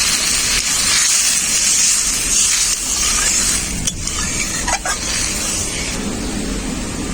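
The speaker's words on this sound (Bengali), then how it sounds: "এরপর আমি জল দিয়ে দেবো মশলাটাতে" Water poured into a hot, oil-separated spice mixture in a pan while making a Bengali fulori curry, giving a loud, steady sizzling hiss that holds for several seconds with a couple of brief spits near the end.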